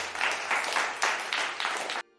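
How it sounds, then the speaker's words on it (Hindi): Cartoon villagers clap and cheer to welcome three brothers home, a dense crowd applause in steady rolling bursts that cuts off abruptly near the end. "जब तीनों भाई अपने गांव की तरफ गए तो गांव वालों ने ताली बजाकर उनका स्वागत किया।"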